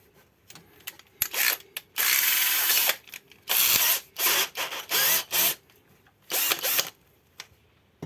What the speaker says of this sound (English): I'm trying to drill